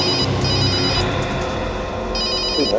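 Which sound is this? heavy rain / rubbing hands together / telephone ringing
telephone ringing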